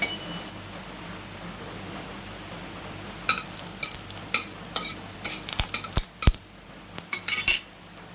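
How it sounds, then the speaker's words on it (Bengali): Dried red chilli hits hot mustard oil in a wok. A quiet, steady sizzle is followed by a run of sharp metal spoon clinks and scrapes as the chilli is stirred, close by. "কড়াই গরম হয়ে গিয়েছে এবার অ্যাড করে দিচ্ছি একটা শুকনো লঙ্কা"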